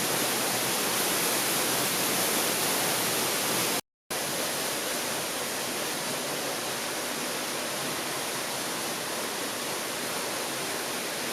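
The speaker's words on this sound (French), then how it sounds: "De petites cascades coulant à travers les rochers apparaissent" Small waterfalls spill over rocks along an Atlas Babori valley trail, a steady broadband rush of falling water heard alone, interrupted once by a split-second gap.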